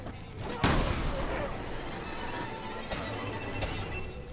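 Shotgun blasts in Resident Evil Revelations 2, one sharp loud boom followed by two or three further blasts over a murky game background.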